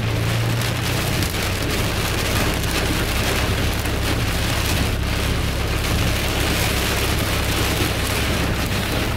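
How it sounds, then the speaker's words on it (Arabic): Heavy rain pours steadily across Jazan's mountain slopes beside waterfalls, a loud, dense, continuous hiss with a low rumble underneath and no voices. "والله من هذه الأمطار غير معتادة"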